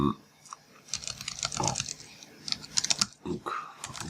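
Rapid clicking of computer keyboard keys while writing a bash script, coming in irregular bursts with short pauses, close and fairly clear.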